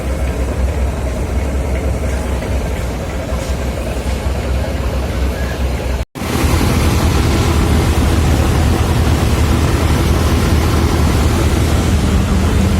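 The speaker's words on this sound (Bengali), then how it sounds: "ছেড়ে দিল আমাদের লঞ্চ। লঞ্চের থ্রাস্ট দেখুন, ভালো একটা গতিতে লঞ্চ আগাচ্ছে।" A small passenger launch on the Dhaka to Elisha river route pulls away under way, its engine a steady, loud low rumble with continuous throb and water wash, briefly cutting out before resuming.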